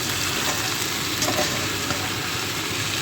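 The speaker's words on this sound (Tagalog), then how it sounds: "stir mo lang siya ng dahan-dahan dahan-dahan stir" Eggplant frying in a pan while being slowly stirred, giving a steady close sizzle with faint scraping throughout.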